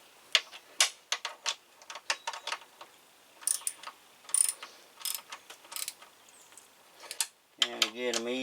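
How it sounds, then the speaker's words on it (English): Socket ratchet clicking in quick bursts while cross-tightening the bolts of a strut tower brace on a car, close and crisp, with pauses between runs and a voice briefly at the end. "Stick me a socket ratchet on there."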